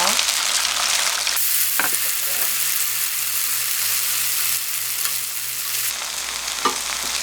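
Shrimp and vegetables deep-fry in hot oil while extra tempura batter is sprinkled over them, giving a loud continuous sizzle with sharp bursts and crackles as the batter hits the oil.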